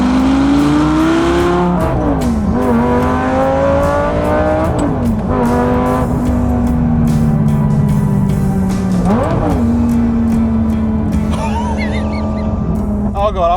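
A car accelerating hard, its engine note climbing steadily through several gear changes with brief dips between pulls, loud and close throughout the clip.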